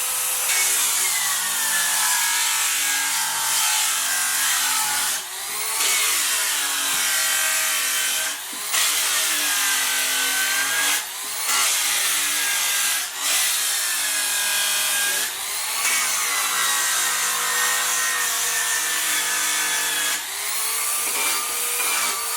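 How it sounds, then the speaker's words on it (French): A power drill with a wire brush grinds steadily against the steel of a trunk in long scraping passes, with brief pauses between strokes. "Je viens rallumer ma perceuse."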